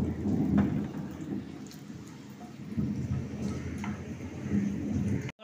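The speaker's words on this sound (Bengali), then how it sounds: "ওই গরম তেলে আমি এবার ফোড়ন দিচ্ছি।" Whole garam masala and a bay leaf hitting hot oil in a pan after fish kofta frying, giving a steady, dense crackling sizzle that swells and eases throughout, close and continuous with no talk.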